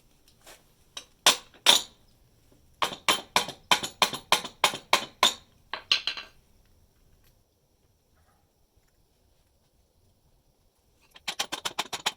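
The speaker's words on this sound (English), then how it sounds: "And this is also when I have to use the hammer sometimes." Rapid sharp metallic taps of a hammer on a silver Indian one rupee coin being shaped into a ring, in quick bursts, about a dozen strikes, then a long pause before another fast flurry of light hammering.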